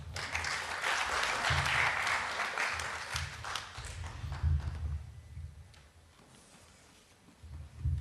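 Audience applause at a Capuchin theological symposium on church history, a steady wash of clapping that fills the hall, swells and fades, then picks up again briefly at the end.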